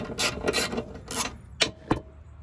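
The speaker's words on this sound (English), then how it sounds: "I just removed all the frame bolts" Bolts being worked loose from the frame of an old KEE lawnmower deck, a few scraping ratchet-like bursts followed by two sharp metallic clicks, close up with no talk.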